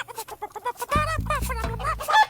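Chicken clucks, quick and rhythmic, play as a comic sound effect for a chicken dance, loud and close with rapid repeated bursts.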